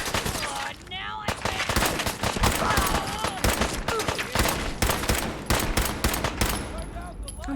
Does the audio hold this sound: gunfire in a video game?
yes